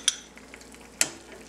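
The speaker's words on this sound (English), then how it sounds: "Just get a little sizzle in that for taste." Two brief sharp sizzles from a frying pan with garlic, about a second apart, with quiet kitchen background between them.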